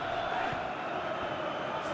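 A large stadium crowd at a Spain versus Austria World Cup football match roars in a steady, distant wash of cheering, with no commentary over it.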